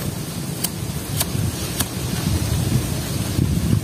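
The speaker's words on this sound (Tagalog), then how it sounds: "Taas ng hangin." Strong wind roars steadily outdoors, buffeting the microphone in a loud, continuous rush, with a few faint clicks.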